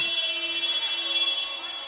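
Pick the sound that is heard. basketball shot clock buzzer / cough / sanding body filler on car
basketball shot clock buzzer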